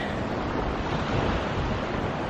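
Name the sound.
waves on Talland Bay beach, Cornwall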